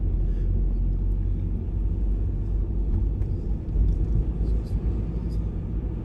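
A car driving along a windy coast road past heavy seas in Guernsey, a steady low engine and road rumble with wind buffeting, continuous and close, with no voices.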